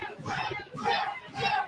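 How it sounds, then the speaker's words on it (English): A wrestling event crowd roars and cheers in loud, swelling waves, three surges rising and easing in quick succession with mixed shouts and chatter throughout. "Listen to this crowd. This crowd is electric."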